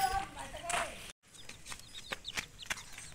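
Close, high-pitched peeps from chicken chicks repeat in quick bursts. A voice speaks briefly near the start.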